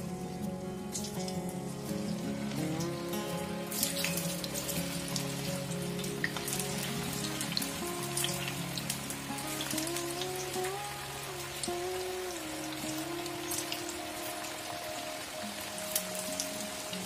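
Homemade french fries sizzle in white oil in a wok over a medium gas flame, a steady crackling hiss that stays even throughout, under background music.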